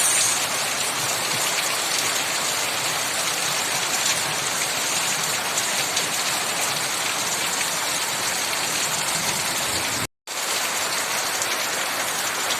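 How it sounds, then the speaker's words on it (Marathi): Torrential monsoon rain pours down in a steady, dense roar that stays loud and unbroken, apart from one abrupt split-second gap near the end. "हे बघा कसा पडतोय मुसळधार पाऊस"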